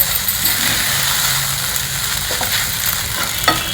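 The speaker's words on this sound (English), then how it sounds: "Reduce the flame and mix everything well together." Soaked sago, coconut and groundnuts stirred together in a pan over a lowered flame, giving a continuous soft scraping and sizzling texture with a few light clinks of the spoon.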